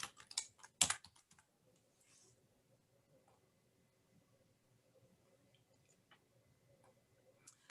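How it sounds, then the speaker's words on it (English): A search word is tapped out on a computer keyboard as a few sharp clicks at the start, followed by faint scattered ticks in a quiet room. "If you simply type the word manual."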